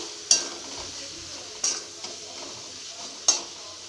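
A spoon stirring turmeric powder into spices in a pan, three sharp scraping clicks spaced about a second apart over a faint background hiss, quiet and close.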